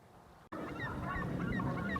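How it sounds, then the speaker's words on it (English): Ducks gather in a small coastal cove on a freezing November day, their overlapping honking and quacking calls filling the scene at a steady, busy pace, moderately near and fairly loud, with no one speaking. "Look at all the ducks."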